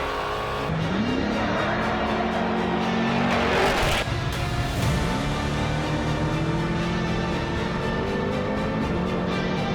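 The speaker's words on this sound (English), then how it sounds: "These guys, they leave the line, they start getting a pace down," Off-road trophy trucks race off the start line in Baja, their engines roaring and revving loudly and continuously, with rising, overlapping engine tones and a brief burst of tire or gravel noise.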